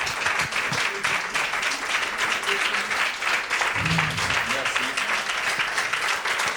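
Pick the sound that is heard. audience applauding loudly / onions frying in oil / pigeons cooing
audience applauding loudly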